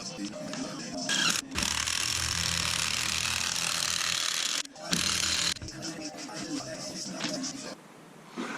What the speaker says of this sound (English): using these McPherson strut compressors. Compressing the struts and getting that bolt off the top